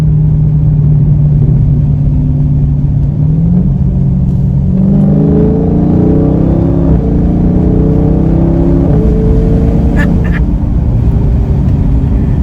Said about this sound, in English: Yo, those downshifts are insane.